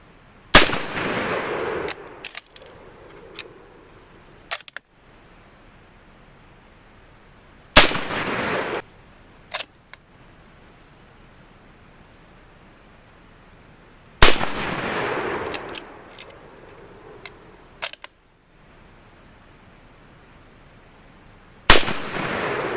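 British WWI Lee-Enfield bolt-action rifle fired during a mud test, five rounds loaded; four loud, sharp gunshots spaced several seconds apart, each followed by brief clacks of the bolt being worked.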